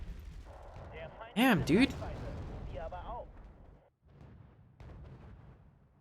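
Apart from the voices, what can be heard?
artillery fire in the video game Wargame: Red Dragon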